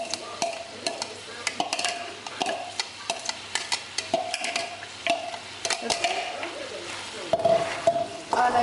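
Chicken sizzling in a karahi pan while being stirred: a constant close frying hiss broken by regular metallic scrapes and clicks of the spoon against the pan.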